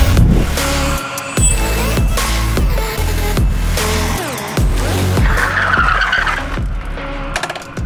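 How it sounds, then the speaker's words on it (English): An e-bike skids hard, its tires squealing through several loud, close passes, with a whining electric motor rising and falling in pitch between the skids. "That may be the last skid, the last e-bike shot you ever see on this channel."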